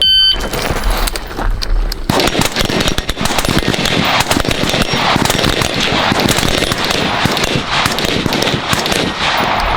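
An AR-15 rifle fires a string of five timed shots, loud sharp cracks that ring out against a dense, noisy background throughout, with no talking.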